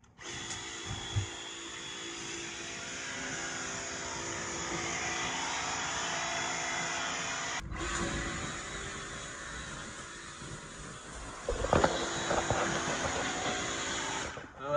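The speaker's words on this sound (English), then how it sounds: "cordless pressure washer here and 4 gallons of firefighting foam on my back." Cordless pressure washer spraying firefighting foam from a four-gallon backpack unit at a Christmas tree fire test, a steady motor whine and hiss with a brief break midway and a louder, rougher stretch near the end.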